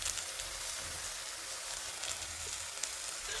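Chili powder sizzles and roasts in hot oil in a pan for a homestyle pork curry, a steady dense frying hiss running throughout with no voices.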